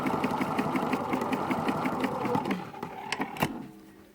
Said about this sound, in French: Si je fais le zigzag, pas au bord du tissu comme maintenant